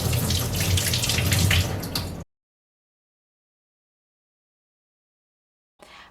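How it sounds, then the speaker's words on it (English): Prawns rinsed under a running kitchen tap, a steady broadband rush of water for about two seconds, then silence until a brief return of flow at the very end. "Then give the prawns a quick rinse with water to finish the cleaning process."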